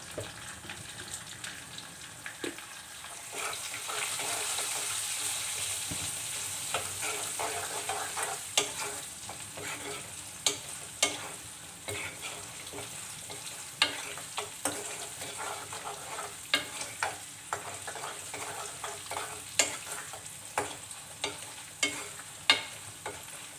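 Tempering with asafoetida, garlic, cumin and curry leaves sizzles in hot oil in a kadai, a continuous broadband fry hiss broken by frequent sharp clicks and spatula scrapes, fairly close and without talk.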